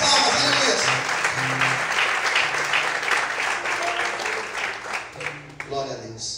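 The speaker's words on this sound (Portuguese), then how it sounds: "Mais forte as palmas," Strong, sustained clapping fills a church during a Portuguese-language evening sermon, with low sustained musical tones underneath. The applause tapers off toward the end as the preacher's voice returns.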